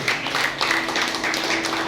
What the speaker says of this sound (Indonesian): Yang setuju tepuk tangan bagi Allah.